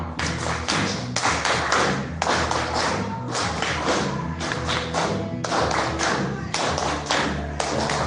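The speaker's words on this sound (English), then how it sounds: "Clap now." Members of a Parkinson's support group clap in regular rhythmic bursts during a dance exercise, with upbeat music playing loudly throughout.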